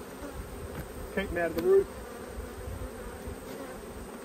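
Honey bees buzz steadily around an opened hive at close range, a dense continuous drone with a brief louder swell and a short spoken remark over it.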